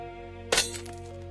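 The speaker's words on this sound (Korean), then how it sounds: "쨍그랑 유리 깨지는 소리가 거실을 뒤흔들었습니다." A glass water cup smashes on a living-room floor, a single sharp, bright shattering crash with a brief tinkling tail, set against a quiet musical background.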